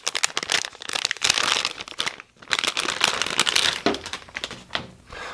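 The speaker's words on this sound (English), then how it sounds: "Okay, we're gonna open our graphics card." Packaging around a graphics card being opened, with dense close-up crinkling and crackling of plastic and paper, continuous with brief pauses and no talk.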